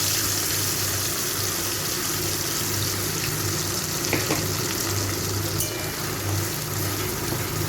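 A ground paste of melon seed, peanut, white sesame, tomato and ginger fries in a pan for a pointed gourd dish, giving a steady, dense sizzle with a few faint clinks and scrapes.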